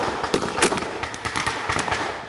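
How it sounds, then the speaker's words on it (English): Blank rounds are fired in quick succession by battle reenactors giving covering fire in a D-Day battle for the La Fière Bridge, loud sharp cracks overlapping into a dense outdoor volley. "Get ready to give him covering fire"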